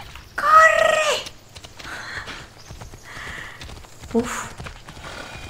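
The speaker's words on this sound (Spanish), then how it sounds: "¡Ay, es mi caballo!" A horse in the video game Assassin's Creed Odyssey neighs loudly, followed by softer hoof clip-clops. A man exclaims briefly over the sounds.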